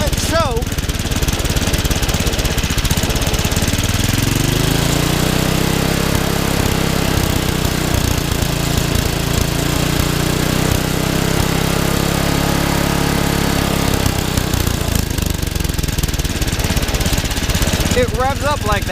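Yard Machines snowblower engine running loud and close, steady idle rising into a higher revving pitch when the choke is applied, then settling back down.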